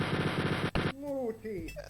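Enemy guns fire in the video game Wolfenstein 3D, a burst of rapid, loud, harsh retro shots that cuts off abruptly and gives way to electronic game tones.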